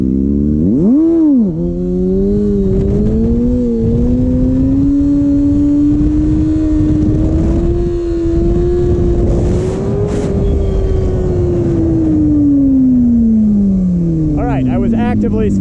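A Kawasaki Ninja ZX6R motorcycle engine drones and rises during wheelie practice, with a sustained tone that climbs slowly and then falls away. A quick blip of revving comes near the start, and steady wind noise runs underneath.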